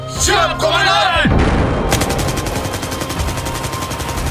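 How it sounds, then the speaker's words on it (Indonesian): Gunfire sound effect from a battle scene in an Indonesian radio drama about I Gusti Ngurah Rai and the 1946 fighting at Marga, a burst of rapid shots and booms that follows a short stretch of voices and continues as loud, dense firing. "20 November 1946, tembakan pertama pecah di marga"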